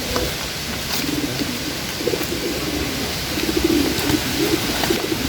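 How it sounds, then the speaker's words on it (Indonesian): Several pigeons coo softly in short repeated phrases against a steady outdoor background, with no voices present. "Ini ada beberapa merpati nih"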